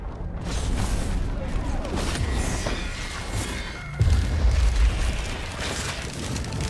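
Squid turrets fire in Risk of Rain 2 amid dense game noise, a busy wash of low booms and thuds with a heavier blast midway, under faint voice.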